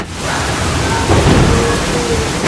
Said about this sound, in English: How much more rain can there be?